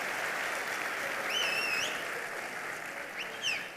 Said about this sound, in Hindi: ताली बजाना है तो प्रॉपरली सब लोग ताली बजाओ